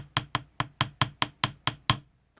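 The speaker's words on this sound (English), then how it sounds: "You want the weight of the hammer to work for you. So all I'm doing is lifting it and then letting it drop." A jewelry hammer is lifted and let drop onto metal wire when making head pins, giving nine evenly spaced, close, sharp metallic taps with brief ringing decay.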